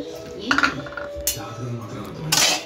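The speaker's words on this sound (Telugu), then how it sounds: "గంటతోనైతే కలుపుకుంటా ఉండండి, లేకపోతే పల్లీలు మాడిపోతాయి." Peanuts being stirred with a ladle in a hot pan make close metallic scrapes and a few sharp clinks against the pan over a soft background hiss.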